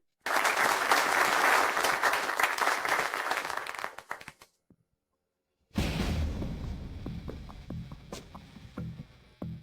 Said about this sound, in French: applaudissons bien fort pour l'accueillir